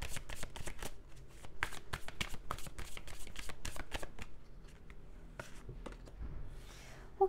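Tarot cards being shuffled and drawn by hand, a rapid run of close papery riffles and flicks that slows into a few separate card snaps, with soft rustling toward the end.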